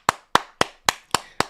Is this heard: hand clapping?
yes